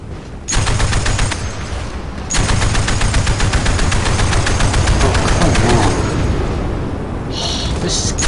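Rapid automatic gunfire in the online shooter Battlefield Play4Free, loud and sustained bursts of machine-gun fire with booms, broken by short pauses.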